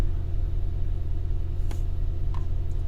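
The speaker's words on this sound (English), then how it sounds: "So let's just start the vehicle." A Mercedes GT4 AMG engine turns over and settles into a steady, loud low rumble at idle, with a couple of brief higher clicks or chimes riding on top.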